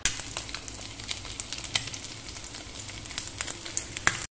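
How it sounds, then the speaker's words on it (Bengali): Eggs sizzle in hot oil in a pan as they are turned until browned for a Bengali egg and potato curry, giving a steady close frying hiss broken by sharp crackles and pops, with no talking. "ডিমগুলো দিয়ে উল্টে পাল্টে লাল করে ভেজে নিচ্ছি।"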